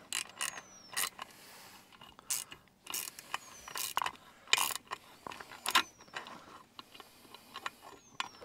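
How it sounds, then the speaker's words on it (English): Socket wrench fitted with a swivel tightening bolts on a Mercruiser 120 hp stern drive of a 1967 Starcraft Holiday boat, giving a series of close, sharp ratcheting clicks and metallic clanks in irregular bursts with no talk. "This little swivel though on a socket"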